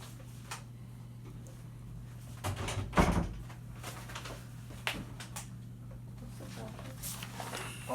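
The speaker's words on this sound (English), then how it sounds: "Can you close this door?" A door in a football press conference room is pulled shut, a single short thud midway through, set against a quiet room with a constant low electrical hum and faint scattered knocks.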